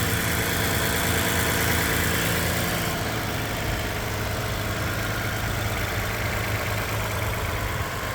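A 2017 Toyota Highlander's engine idles smoothly and evenly, a steady close-up hum without revving, and no one speaks.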